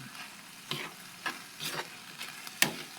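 Tomatoes sautéing in a pan, a soft continuous sizzle broken by several sharp spatula scrapes and clinks against the metal; no voices.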